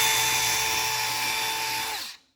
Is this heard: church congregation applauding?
no